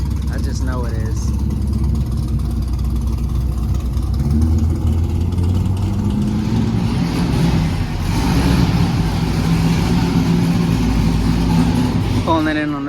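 A Chevrolet Corvette C5 engine runs continuously with a loud, close low rumble as the car rolls onto a dyno, the note rising slightly midway, while people talk over it.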